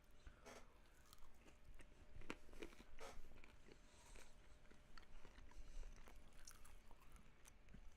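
A bite of crunchy KFC popcorn chicken is taken close to the mic, followed by quiet chewing. Several sharp crunches stand out over a soft, muffled background.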